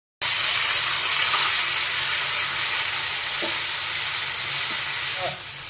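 Chillies frying in hot oil in a pan for a boiled papaya sambharo, a loud, continuous, close sizzle with faint stirring clicks, easing slightly right at the end as boiled papaya goes in.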